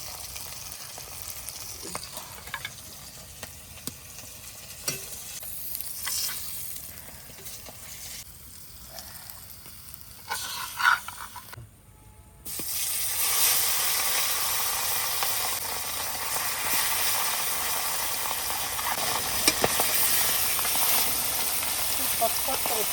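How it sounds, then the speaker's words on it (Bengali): Pieces of rohu fish fry in a pan with a steady, soft sizzle and hiss that turns louder and denser about halfway through, with occasional clinks and faint voices nearby. "দেখো মাছের পিসটা কিরকম ভেজে নিলাম"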